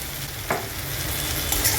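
Chopped onion and tomato with salt are stirred in a hot pan for okra bhaji, giving a brief, steady sizzle with one sharp scrape of the spoon and a faint clink, close and without voices.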